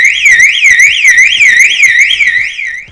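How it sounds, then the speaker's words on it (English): A 2019 Ford Courier van's factory alarm wails in a loud, rapid rising-and-falling siren sweep, close and continuous for a few seconds. "the alarm's on, the indicators are flashing"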